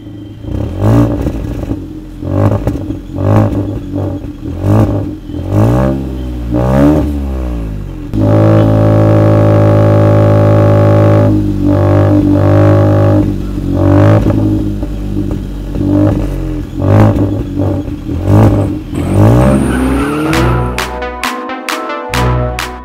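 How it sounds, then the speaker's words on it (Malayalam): A car with a one-litre turbo petrol engine and twin exhaust revs repeatedly, its sporty exhaust note rising and falling through rapid surges, with one sustained high rev in the middle, loud and close. "അത് ഈ ഒരു ട്വിൻ എക്സ്ഹോസ്റ്റ് ആണ്. സൗണ്ട് വളരെ വ്യത്യസ്തമായ രീതിയിൽ, അതായത് വാഹനം ഓടിക്കുമ്പോൾ ഒരു സ്പോർട്ടി ഫീൽ നൽകുന്ന സൗണ്ട് തന്നെയാണ് നൽകിയിട്ടുള്ളത്."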